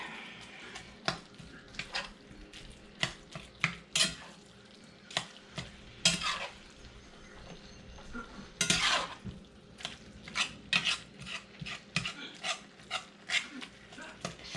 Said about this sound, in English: First, you got to cook your meat.